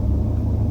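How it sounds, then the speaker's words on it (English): Car engines idle in a car wash queue, among them a BMW M5, giving a steady, close, low rumble that stays even throughout with no voices. "we're all sitting here, engines running"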